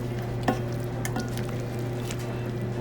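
Chicken pieces with mushrooms and onions frying in a pan, a soft steady sizzle with a few light stirring scrapes and utensil taps, no talk.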